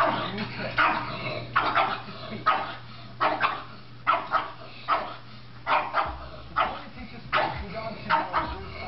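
A pug gives a steady series of short growling, grumbling vocal bursts, roughly one a second, close to the microphone. Under them runs a low hum that shifts partway through.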